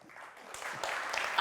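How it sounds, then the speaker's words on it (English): Audience applause at a business summit plenary opening, a short burst of clapping that swells toward the end, with a faint voice underneath. "Give him an applause, please."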